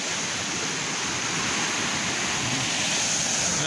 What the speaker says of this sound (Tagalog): Ayun, lalaki ng alon.